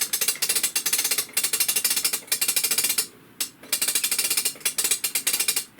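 A crank-wound mechanism inside a 1963 Ideal Beverly Hillbillies toy car, a close rapid ratcheting clatter in repeated bursts with a brief pause midway.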